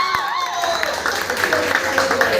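Applause and clapping from a crowd at a dance party for a performer named Srishti, a steady wash of many hands mixed with background music and room noise.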